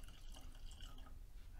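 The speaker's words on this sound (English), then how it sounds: "Let's give it a pour and see what happens." Jack Daniel's whiskey pours from the bottle into a glass, a soft steady trickling and gurgling of liquid, faint and continuous for about a second and a half with no talking.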